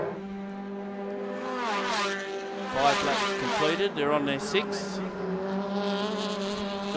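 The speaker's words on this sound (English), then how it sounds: "Just having a listen to some of those cars as they cruise past our commentary position." Formula Ford race cars at a motor racing championship drone past the track with rising and falling engine tones, several cars in quick succession, under a commentator talking throughout.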